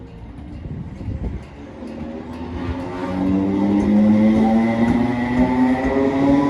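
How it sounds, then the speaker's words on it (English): A TransPennine Express train, unit 397 009, running from Glasgow Central to Preston through Carluke station: a loud, close rumble with a rising electric motor whine that builds and holds as it passes. "This is a Transpennine Express service from Glasgow Central to Preston"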